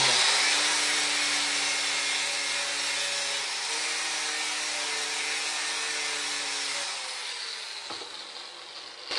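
A grinder fitted with small abrasive discs works on a steel knife blade, giving off a steady, high, close whine with a harsh grinding hiss. It holds for several seconds, then eases down before a brief bump at the end.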